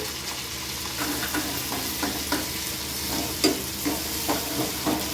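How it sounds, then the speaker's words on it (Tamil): Sundakkai (turkey berry) and tomato sautéing in a pan, with a continuous sizzle and soft, irregular scraping of a spoon stirring through the mixture, close and alone without speech. "தக்காளியோடு சேர்த்து சுண்டக்காவும் போட்டு வதக்கிக்கலாங்க"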